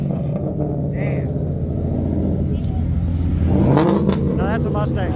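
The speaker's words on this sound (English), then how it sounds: "Now that's a Mustang. That's a drift Mustang." Ford Mustang drift car engine rumbling amid a street crowd, with a rising rev swelling near the end under steady background chatter.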